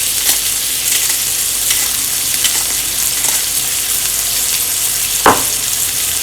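Meat sizzles on a grill, a loud continuous crackling hiss with scattered pops and one sharper burst near the end, heard alone without talk.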